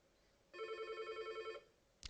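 A telephone rings once with a bright, trilling electronic bell lasting about a second, fairly faint and alone, followed by a short click.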